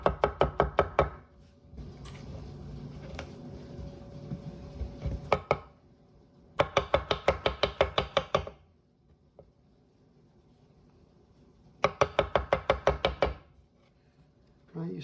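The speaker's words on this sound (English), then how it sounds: "chop up our mushroom." Knife chopping mushrooms on a cutting board for a schnitzel mushroom sauce, in fast bursts of sharp, close knocks separated by quieter pauses and softer scraping.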